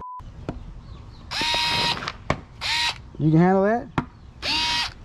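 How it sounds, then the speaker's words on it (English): Fanttik NEX L1 electric screwdriver driving screws into a piece of wood, several short whirring bursts with a rising mechanical squeal in between and a few sharp clicks, close up, with people talking. "You have to put the screws in this piece of wood."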